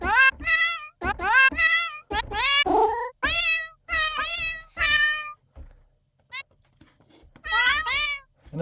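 A pet cat named Minnie meowing, a close series of about eight distinct meows with varied pitch and a brief pause near the end, no talking.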